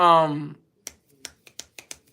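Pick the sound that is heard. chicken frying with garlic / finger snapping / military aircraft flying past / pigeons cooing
finger snapping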